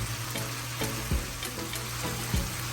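Ackee and saltfish frying in a pan give a steady close sizzle, with a few soft stirring scrapes and clinks scattered over it.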